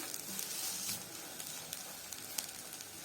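Garlic cloves fry with onion in a pan while the beef freekeh tagine is prepared, giving a faint, steady sizzle with soft crackles and a few light stirring clicks throughout.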